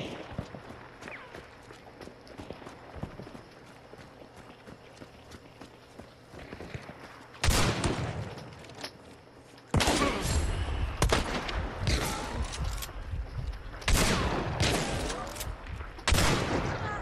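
Hunt: Showdown match with loud gunshots cracking out in separate bursts over low background noise, the shots sounding close and sharp, some spaced several seconds apart.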